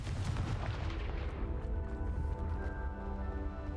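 Confringo fire spell exploding in Hogwarts Legacy, a dense burst of booming blasts fading into a ringing, tonal tail.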